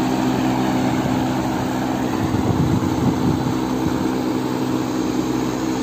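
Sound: York fan motor running

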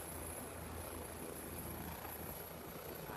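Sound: helicopter with engine running

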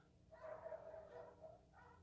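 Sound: dogs barking

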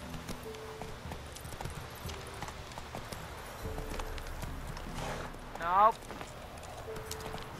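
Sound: horse hooves galloping in video game The Witcher 3

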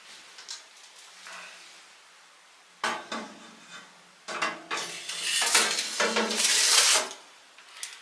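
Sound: metal rack with two chickens placed into a smoker

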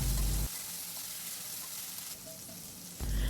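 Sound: okra frying in a pan with salt and turmeric

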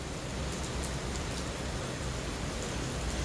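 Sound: rain falling

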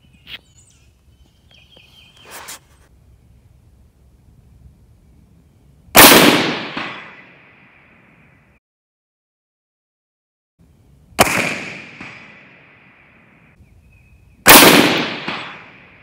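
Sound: 6.5 Grendel rifle gunshots

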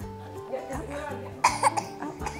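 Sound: cough

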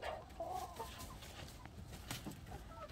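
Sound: chickens clucking in an animal pen

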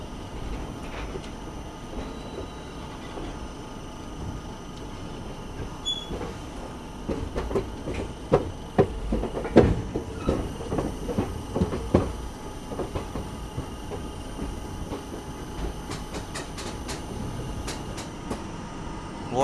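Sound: Azad Hind Express train crossing Nagpur diamond crossing

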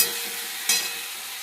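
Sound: dry spices mixed with water added to sizzling pan

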